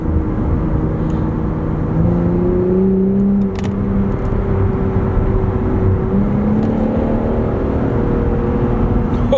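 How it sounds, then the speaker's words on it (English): An Infiniti Q60 Red Sport engine pulls hard in third gear with the transmission in manual mode, a steady close-up drone rising in pitch through two long sweeps, with no talking. "I'm gonna put it to manual mode and into the third gear."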